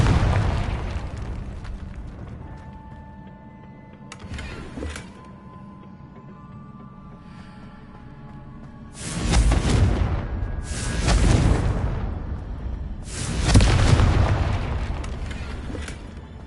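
Loud, booming fire-spell explosions from a Harry Potter video game set at Hogwarts, with about four broadband blasts clustered in the second half after a quieter stretch of low rumble.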